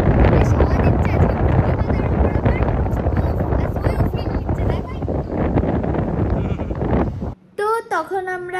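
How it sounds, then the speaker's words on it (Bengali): Strong wind buffets the microphone outdoors at the seaside at Mandarmani, a loud continuous rumbling gust that drops away near the end. A person talks over it. "বেশ হাওয়া দিচ্ছে আজকে"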